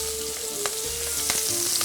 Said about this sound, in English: I'm gonna add my onions to the pan